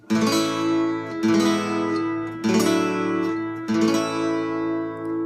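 An acoustic guitar strums four chords in turn, each left to ring out before the next, clear and close with no speech.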